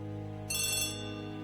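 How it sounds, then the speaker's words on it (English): A telephone rings once, a brief bright electronic trill in a quiet room, fairly close and alone. "Oh, the phone is ringing."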